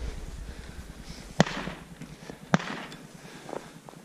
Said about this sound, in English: They're about to shoot.